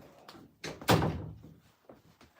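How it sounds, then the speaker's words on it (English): Banging on a door inside a home, a few dull thuds with one louder knock in the middle, heard alone at moderate distance. "Oh, somebody banging on the door?"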